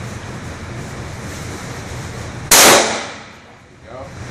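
A K98 bolt-action rifle fired outdoors on iron sights: one loud, sharp gunshot cuts through steady wind noise and fades into a decaying echo over about a second.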